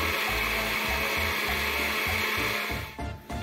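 A kitchen blender grinds chili with tomato into a sauce, a loud steady whirring drone with a rhythmic chopping pulse underneath that slows and sputters near the end, no talk.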